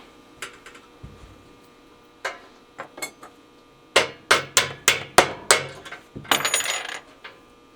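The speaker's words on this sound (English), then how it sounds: "I'm just going to tap it with my rawhide mallet." Rawhide mallet tapping a French horn rotor out of its casing: sharp metallic knocks, first a few scattered taps, then a quick series of louder evenly spaced blows, ending in a brief clattering rattle, close and alone.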